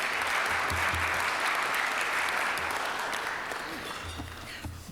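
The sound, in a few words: applause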